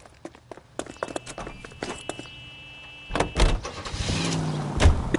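A car door opens and slams shut in the L.A. Noire video game, among footsteps and clicks, then a car engine starts and rumbles louder as the player drives off.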